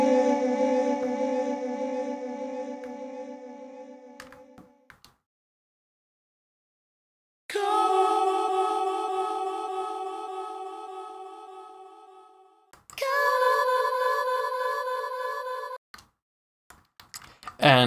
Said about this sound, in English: you'll hear it kind of has like a delay effect, but all of that is caused by the granulizer